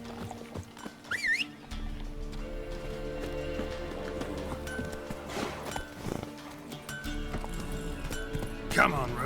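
Roach, the horse in The Witcher 3: Wild Hunt, galloping with a steady clip-clop of hooves beneath a game soundtrack, with a brief whinny near the start and another near the end.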